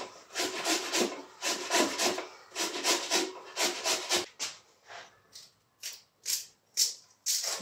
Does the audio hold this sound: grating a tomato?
yes